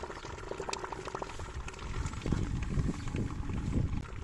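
Quicklime slaking in water at home, giving a steady bubbling, fizzing and crackling reaction close by with small pops throughout, growing slightly busier toward the end.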